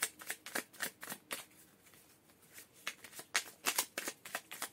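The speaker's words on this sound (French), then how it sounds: "on dit tirer les cartes" Tarot-style cards shuffled and drawn for a love reading, a close riffle of quick papery flicks in bursts, pausing briefly midway before another flurry, with no talk over it.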